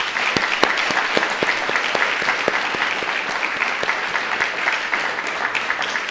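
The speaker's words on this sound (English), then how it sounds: "let's give a round of applause to our speakers for tonight." An audience at an evening talk event on the road to net zero applauds the speakers, with dense sustained clapping and a few sharp individual claps standing out, loud and continuous for the whole stretch.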